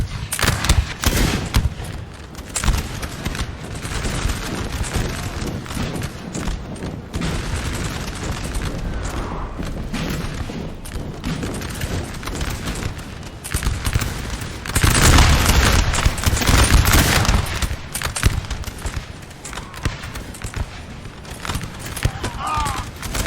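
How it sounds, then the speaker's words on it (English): Dense artillery barrages and massed musket volleys from a Napoleon Total War battle, a continuous rumbling roar of booms and crackling fire, louder and heavier around the middle, with someone talking over it. "this unit's getting really focused by artillery"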